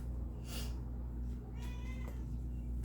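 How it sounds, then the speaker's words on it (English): A young kitten meows repeatedly, a couple of separate plaintive cries over a steady low indoor hum, moderately near and fairly faint. "Ignore that cat. She never stops crying."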